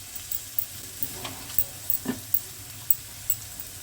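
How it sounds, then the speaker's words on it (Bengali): Onion, garlic and ginger fry over a low flame in a pan, giving a soft, steady sizzle broken by scattered clinks and scrapes of stirring, close by with no voices. "পেঁয়াজটা আমি একটু নেড়ে নিই এবারে রসুনটা আদাটা দিয়ে দিলাম"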